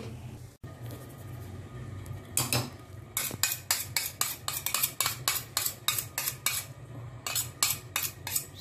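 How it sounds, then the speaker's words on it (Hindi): Gram flour (besan) being stirred in a pan for laddu, heard as a steady run of rhythmic metallic scrapes and clinks from a spoon against the pan, close and moderately loud, with no talking. "आराम से धीरज से इसको घुमाते रहना है, चलाते रहना है जब तक बेसन लाल नहीं हो जाता है"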